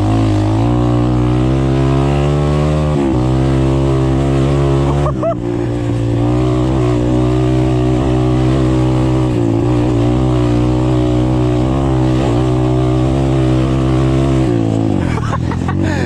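An Apollo Sano DMZ 250 dirt bike revs and accelerates on a dirt track through a forest. The single-cylinder engine drones loud and close, its pitch climbing and dropping through several throttle changes, with a sharper rev burst near the end.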